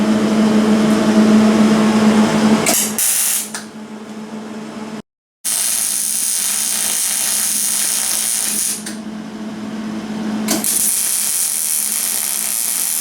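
A bracket is tack welded onto a small engine gas tank, a steady buzzing welding hiss running in long stretches with brief breaks and one abrupt silent gap, close and loud, no talk.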